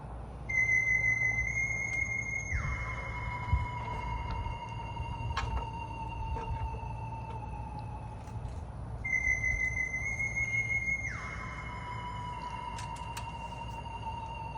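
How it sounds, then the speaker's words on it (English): An alarm sounds in the background as a cycle of steady electronic tones that step down in pitch, heard twice at a moderate level over a low room rumble, with no talking. "The strange noise you hear in the background is his alarm going off."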